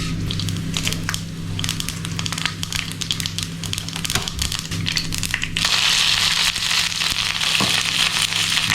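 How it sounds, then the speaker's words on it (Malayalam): Mustard seeds crackling and popping in hot coconut oil with dried red chillies and fenugreek, a dense continuous sizzle with sharp pops close by, growing louder and hissier toward the end, no voices. "കടുകെല്ലാം പൊട്ടിയിട്ടുണ്ട്."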